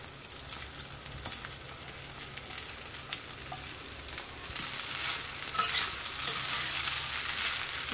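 Sago pearls sizzle in hot ghee for sabudana khichdi, a steady crackling fry that grows louder and brighter as they are stirred, with no voices.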